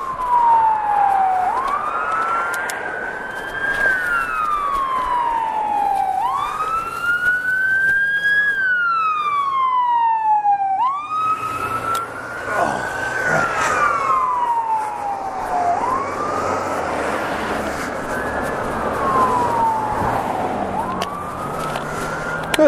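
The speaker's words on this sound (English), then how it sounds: "Never had to pull over for an ambulance on my bike before." An ambulance siren comes up from behind a cyclist, loud and continuous, sweeping in long rising and falling wails with a brief stretch of rapid yelp. Road and wind noise sit underneath.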